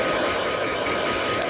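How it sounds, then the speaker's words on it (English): A hair dryer set to its cool setting blows a steady, loud, unbroken rush of air up close, with no voices. "And I got it on cool. She's using our old dryer."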